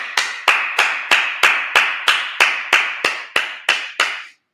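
Twelve sharp, evenly spaced claps from a congregation at a Sabbath service, each one loud and ringing with a short decay, struck in a slow steady rhythm and then stopping.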